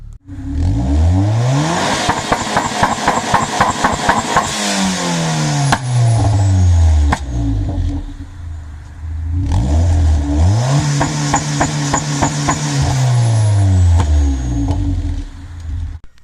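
A car engine with anti-lag tuned in Crome revs hard in two long bursts, the pitch rising and falling with crackling pops, loud and alone, a brief drop to idle between them.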